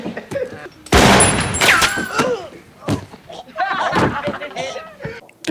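Gunfire in a TV drama scene from The Sopranos, with loud sharp bursts and thuds mixed with shouting and talk, close and chaotic.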